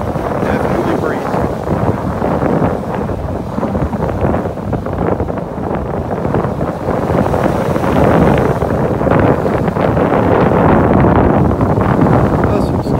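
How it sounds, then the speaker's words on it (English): Steady breezy wind on a beach in North Naples, Florida, a loud continuous roar of gusts buffeting the microphone throughout. "Definitely breezy up here."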